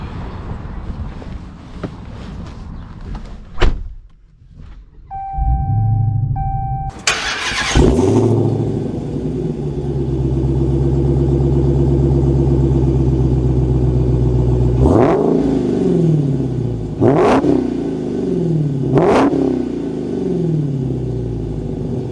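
A 2022 Dodge Challenger SRT Super Stock V8 cranks and fires into a loud, deep idle, then gives three sharp rising revs that fall back to a rumbling idle, close by.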